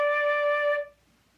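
A single sustained flute tone made by blowing air across the embouchure hole, steady and clear for under a second before cutting off into silence.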